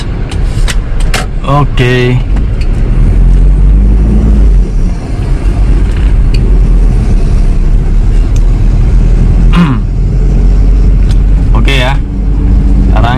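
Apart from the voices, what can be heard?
Toyota Kijang LGX 2.0 EFI car pulling away in first gear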